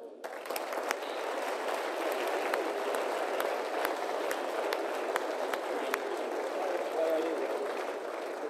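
An audience at a sports awards ceremony applauds steadily and fairly faintly at a distance, a continuous wash of clapping with a few sharper claps standing out.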